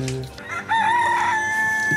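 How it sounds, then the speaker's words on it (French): Rooster crowing in a village, one loud drawn-out crow rising and holding steady, close and clear, with faint background noise before it. "Dès que t'as un coq qui commence à gueuler, ça réveille l'autre."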